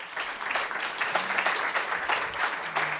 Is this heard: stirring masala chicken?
no